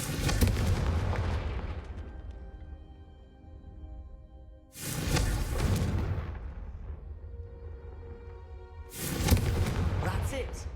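Three big Confringo fire spell blasts from Hogwarts Legacy, each a loud roaring burst that fades slowly before the next, evenly spaced several seconds apart.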